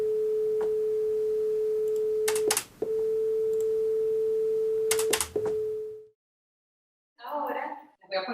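A steady pure sine tone for comparing 440 Hz and 432 Hz tuning hums alone for several seconds, broken by brief clicks, then stops before a voice speaks.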